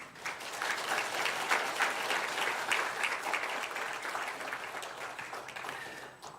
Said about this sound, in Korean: 수고에 감사하다는 박수와 환영의 박수 함께 하겠습니다.